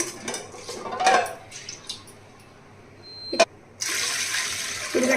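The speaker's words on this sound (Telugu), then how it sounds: "ఒక గ్లాసు వాటర్ వేసుకున్నానండి" A glass of water tipped onto washed lentils in a kitchen pot, with metal dishes clinking beforehand and then a brief gushing pour that breaks off and starts again.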